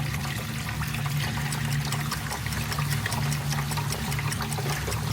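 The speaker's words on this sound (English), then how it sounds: "the water starts to come in here" Water pours steadily into a grow bed during a test drain, a continuous, fairly loud splashing and gushing flow close by, with a low pump-like hum underneath and no talking.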